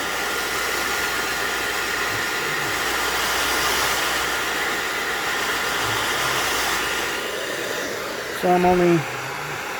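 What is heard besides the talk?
hair dryer heating motorcycle side panel decal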